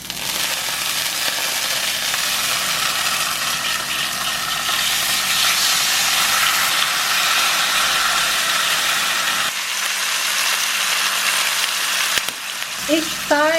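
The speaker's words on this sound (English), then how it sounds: "we're gonna heat up our pan, and then we're gonna sear the skin, 4 sides, all of them" Pork belly skin searing in a hot oiled pan, a steady loud sizzle and hiss with frying crackle running continuously, a brief dip near the end.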